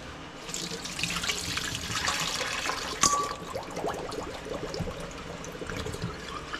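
Tap water runs steadily into a kitchen sink to defrost frozen udon noodles, a continuous close splashing flow with a brief clatter partway through.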